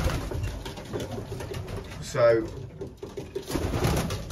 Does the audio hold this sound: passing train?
no